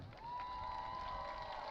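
A high school football stadium crowd cheers for the cheer alumni at a night game, a brief steady roar of cheering and shouting at moderate distance, with a faint sustained tone running through it.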